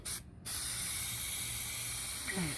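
Plastic dip sprayed onto a car while wrapping it at home, a steady, close hiss that runs almost the whole time after a short break at the start.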